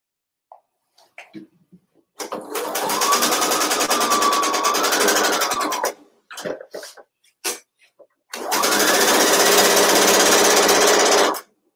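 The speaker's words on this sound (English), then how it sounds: "Same method, take a stitch across the corner, turn the edge." A sewing machine stitches across a fabric corner in two steady motor runs of about four and three seconds, with soft handling clicks in the pause between.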